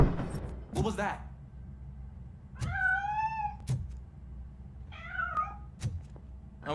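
A cat meows twice in RoboCop Rogue City, each a rising-falling plaintive call a couple of seconds apart, amid sharp knocks and thuds nearby.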